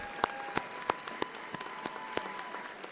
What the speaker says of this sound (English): A round of applause for this group.